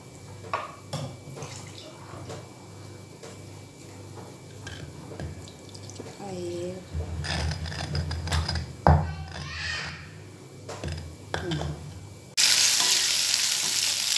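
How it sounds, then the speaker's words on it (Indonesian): Spice paste for Buleleng-style rambanan vegetables fries with rice water in a pan. Scattered sizzles, stirring scrapes and drips build into a louder, steady hiss of frying at the end. "kita goreng bumbu sayur rambanannya dengan air beras tadi"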